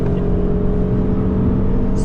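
A car accelerating hard on the Nürburgring track while chasing a Porsche, its engine roaring loud and close in a steady, sustained drone through the whole short stretch.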